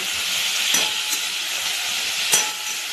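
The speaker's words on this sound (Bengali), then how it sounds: "আলুটা দিয়ে এবার ভাজছি।" Potatoes fry in hot oil in a pan, giving a steady, bright sizzle up close with two brief stirring knocks, and nobody speaking.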